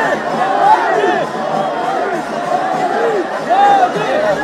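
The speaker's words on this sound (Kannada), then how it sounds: "ಮೋದಿ ಪರ ಜೈಕಾರ, ಅಭಿಮಾನಿಗಳ ಹರ್ಷೋದ್ಗಾರ" A crowd of supporters cheers and chants for Prime Minister Narendra Modi at the inauguration of Bengaluru's Yellow Line metro, a dense, steady roar of many voices with louder surges of shouting throughout.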